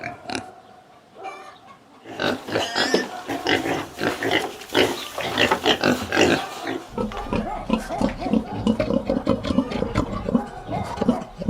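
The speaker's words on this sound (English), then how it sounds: "Pig." A pig grunts and squeals in a rapid, irregular run of close, loud calls after a few brief sounds and a quiet opening.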